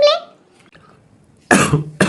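A child coughs near the start, a short throaty burst that fades into quiet, followed by louder voices talking over the end.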